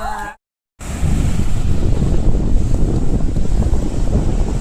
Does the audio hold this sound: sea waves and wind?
yes